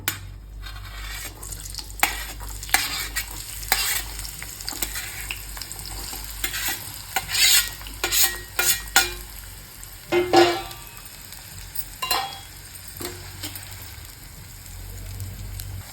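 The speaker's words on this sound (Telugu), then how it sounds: "ఉల్లిగడ్డలు అయితే కొంచెం ఫ్రై అయినాయి" Onions fry in oil in a pan, a steady loud sizzle running throughout with repeated scraping stir strokes and occasional clinks of the utensil against the pan.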